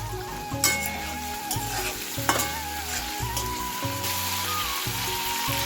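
Prawns sizzle steadily in a hot pan while being stirred, with a continuous close crackle and a few sharp scrapes and clicks of the utensil against the pan.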